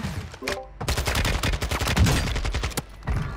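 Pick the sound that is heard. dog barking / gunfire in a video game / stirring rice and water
gunfire in a video game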